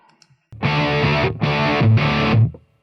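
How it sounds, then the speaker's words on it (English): A fuzz distortion plugin drives a clean guitar amp as three long, sustained chords ring out one after another, each heavily saturated and buzzing, loud and close with no talk. "Let's turn the fuzz on, see where we're at."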